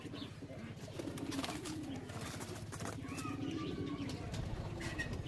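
High-flying pigeons kept for sale coo in a soft, repetitive throaty rumble, several birds together at close range, with faint chirps and a quiet background.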